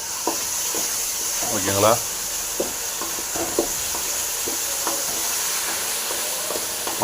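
Raw mango cooks in masala in a pan: a steady hiss with scattered small ticks and scrapes of stirring, and a voice speaks briefly partway through.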